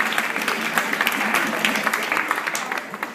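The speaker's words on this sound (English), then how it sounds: "And the crowd goes wild." A crowd claps steadily at a guitar performance, with dense, continuous applause and scattered cheers, fairly close, with no talk over it.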